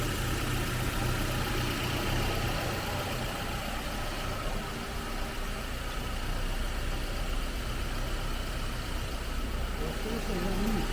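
A Volvo 240 Turbo idles with a slight misfire, a steady low engine drone running continuously at moderate level while people talk over it.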